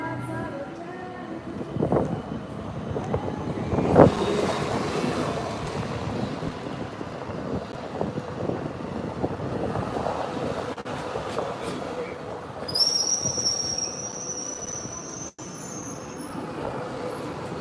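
A tram rumbles along its rails with clattering wheels and a brief high squeal, while people talk in the background.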